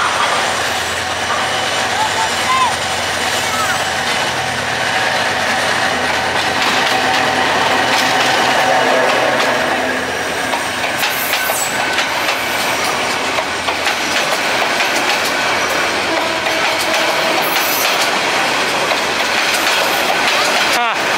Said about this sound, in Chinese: 因为火车开得不是很快，过来了